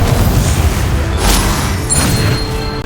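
A Confringo fire spell explodes in Hogwarts Legacy, a loud, sustained booming blast with crackling bursts rolling over nearly three seconds, heavy low rumble throughout.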